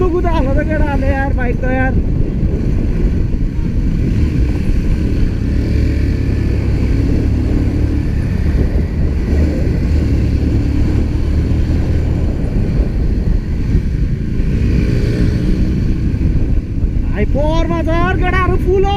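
Several motorcycles ridden hard on a group weekend ride produce a loud, continuous engine roar with heavy wind rumble that holds steady throughout, while voices talk over it at the start and end.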